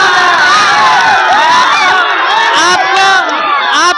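Large political rally crowd for a BSP event with Mayawati in Mau Mohammadabad, loud continuous cheering and shouting with many overlapping high voices and women's cries, dense and close.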